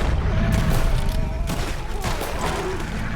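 Pistol gunfire in the video game Red Dead Redemption, a few loud cracks standing out over a dense, continuous roar of game noise and rumble.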